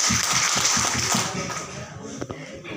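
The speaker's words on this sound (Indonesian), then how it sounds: "kita tepuk tangan untuk ibu-ibu yang luar biasa" Audience applause for the mothers at a social assistance outreach session for a family welfare program, a steady wash of many hands clapping together, fairly loud and continuous before thinning out toward the end.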